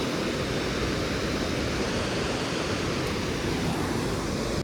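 A constant, full rush of a mountain stream on the trek to Annapurna Base Camp, a dense steady roar with no pauses or voices.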